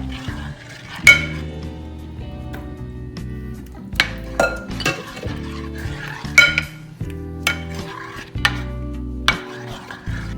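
Tomato sauce ladled into an olive-oil-greased baking tray for baked ziti, with scattered metallic clinks and scrapes of the ladle against the tray and a sharp knock or two, close and moderately quiet with no talk.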